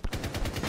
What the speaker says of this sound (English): Watch out, the fuse has an LMG.